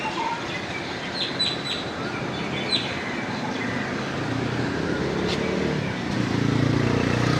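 Small sparrows chirp in quick, high bursts beside a small pond in Jaffna, fairly faint over a steady rumble of traffic or a passing train.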